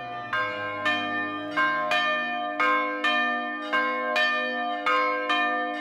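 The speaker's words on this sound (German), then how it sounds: "Mit dieser Glocke, gestiftet von ihm und seiner Frau." A church bell in Spain, donated by a couple, rings loud and near in a slow, regular series of about eight strokes. Each bright, ringing strike overlaps the long hum of the one before, with no talk.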